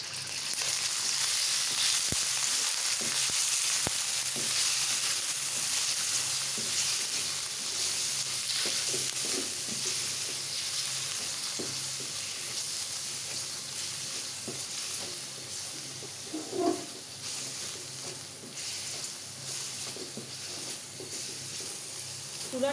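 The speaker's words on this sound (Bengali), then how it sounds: "আমাদের চিকেনটার প্রনটাকে হচ্ছে আলাদা ভেজে তুলতে হবে। আমি প্রথমেই চিকেনটা দিয়ে দিলাম।" Chicken sizzles and fries steadily in a hot pan over medium heat as the first step of homemade pad thai, a dense continuous crackle with occasional stirring clinks, no talk over it.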